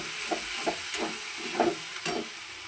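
Spice masala with green chilies and Kashmiri chili powder frying for chicken biryani, a continuous loud close sizzle and hiss with a few soft stirring knocks against the pan.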